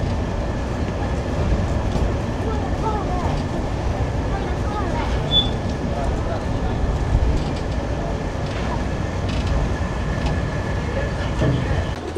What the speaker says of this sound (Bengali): আমাদের ট্রেন সৈকত এক্সপ্রেস এখন সাতকানিয়া রেলওয়ে স্টেশনে এসে দাঁড়াচ্ছে